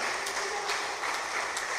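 Church congregation at a workers' service clapping together, steady dense applause that stays fairly soft and even throughout.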